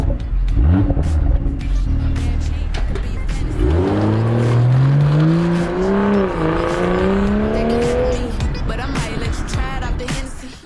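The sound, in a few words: BMW M240i engine revving, exhaust note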